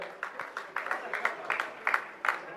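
An audience at a Jain religious discourse applauds to honour a family, with rhythmic, moderately soft rounds of clapping pulsing steadily and evenly in a reverberant hall.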